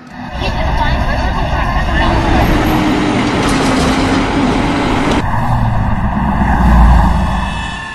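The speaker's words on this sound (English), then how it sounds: "Garbage trucks, honking horns, motorcycles, sirens?" Steady roar of city traffic with passing vehicles, a loud engine swell building and cutting off midway, then continued rumbling road noise under a voice speaking throughout.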